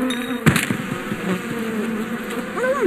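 A cartoon swarm of bees gives a loud, steady buzz that hums all the way through. A sharp knock breaks in early on and a short squeaky whistle comes near the end.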